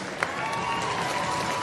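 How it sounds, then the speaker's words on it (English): Steady audience applause for cheerleading teams at a sectional competition, a continuous wash of clapping from an indoor crowd with one sharp clap standing out near the start. "How about a big round of applause for all the teams competing here tonight?"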